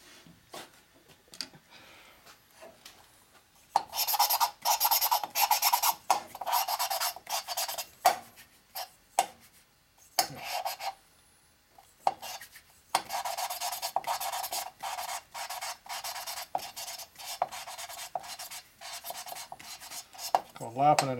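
A Harley Sportster engine valve, from a 650 single landspeed racer rebuild, being lapped into its seat with a lapping stick: bursts of gritty rubbing and grinding strokes, close and fairly loud, separated by short quiet gaps.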